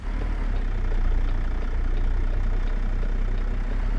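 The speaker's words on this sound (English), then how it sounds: "this is the 600 horsepower engine in this thing" A 600-horsepower Kenworth W900A truck engine idles in American Truck Simulator, giving a steady, loud, low rumble that stays constant and close throughout with no talk over it.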